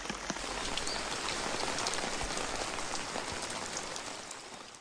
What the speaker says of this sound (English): Thick raindrops pelt down on stone lanterns in Gakwangjan Hall.